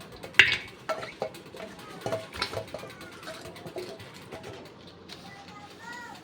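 Mutton trotters tumble into a pressure cooker with a sharp metallic clatter near the start, then lighter scattered knocks and handling clinks of kitchen pots and utensils at close range.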